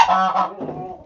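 A small Sebastopol goose honks loudly and repeatedly at close range, a harsh run of calls with a brief pause partway through, set off by roosters crowing nearby in a backyard flock.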